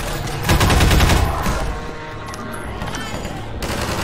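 Rapid bursts of gunfire in Half-Life 2: Episode, loud and dense in the first two seconds, then thinning into scattered shots over a steady background rumble.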